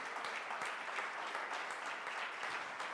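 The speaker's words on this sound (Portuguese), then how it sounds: "Você pode aplaudir o Senhor?" A church congregation applauds during a worship service. The clapping is steady and continuous but soft and distant, and no voices rise above it.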